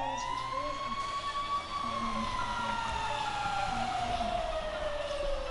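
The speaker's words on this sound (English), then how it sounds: "I hear your fire truck" A fire truck siren wails continuously, sweeping slowly up and down in pitch over a low engine rumble, loud and close throughout, heard as in-game audio.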